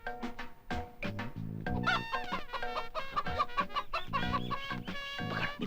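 Chickens cluck and squawk loudly and continuously, close by, in a dense agitated stream of overlapping calls as they are grabbed and handled.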